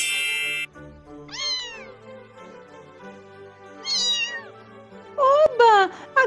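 A cat meows in an animated episode, three separate drawn-out meows with falling pitch spaced a couple of seconds apart, the last one louder and rougher, against quiet background music.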